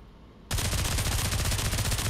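Rapid submachine gun fire in the VR shooter Pavlov VR bursts in suddenly after a brief quiet moment and continues as a loud, dense, sustained stream of shots.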